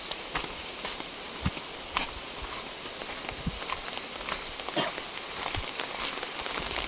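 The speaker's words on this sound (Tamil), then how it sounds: "ஆக்சுவலாக மழை எப்படின்னு பார்த்தீங்கன்னா இங்கே பெய்யுது நிற்கிது பெய்யுது நிற்கிது" Rain falls steadily near a waterfall at Paithalmala in northern Kerala, a soft continuous broadband hiss with scattered light patters and thumps, fairly faint and even throughout, no talk.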